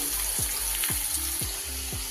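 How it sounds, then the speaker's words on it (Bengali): Cut potatoes frying in a pan over tempered spices for a Bengali vegetarian dish, with a loud continuous sizzle close by and regular scraping stir strokes about twice a second. "আলুগুলোকে এবার একটু ভালো করে ভেজে নিই"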